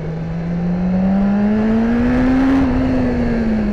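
A BMW S1000RR motorcycle under steady throttle on a country backroad, its engine note rising smoothly in pitch as it pulls hard, loud and close with rushing wind beneath the drone.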